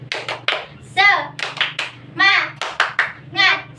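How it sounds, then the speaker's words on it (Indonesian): A class of children performs the 'tepuk semangat' spirit clap, sharp rhythmic bursts of group clapping alternating with voices chanting along, loud and close in a classroom. "Sekali lagi, tepuk semangat"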